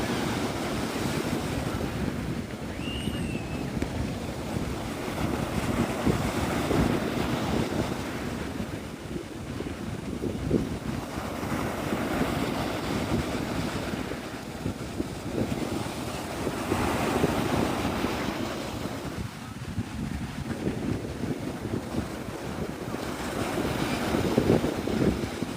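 Strong wind buffeting the microphone at Navarre Beach, Florida, with a constant roar of surf behind it, gusting louder and softer throughout.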